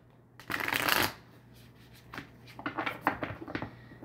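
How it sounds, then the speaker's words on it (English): A deck of tarot cards is shuffled up close: one long riffling burst, then a run of quicker, softer shuffles and taps, with no voices. "One more shuffle, you guys."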